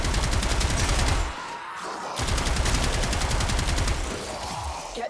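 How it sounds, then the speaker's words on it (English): The Gotva Prime rifle in the Warframe video game fires in rapid automatic bursts, a loud, close, fast rattle of shots that breaks off briefly, resumes, then fades into a softer trailing tail. "I'm just shooting the shit out of that wall"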